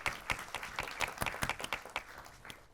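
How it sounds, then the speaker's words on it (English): Audience applause for drone photographer Guillermo at a film event, a short round of scattered hand claps from a modest crowd, fairly quiet and fading toward the end. "Give a round of applause for Guillermo."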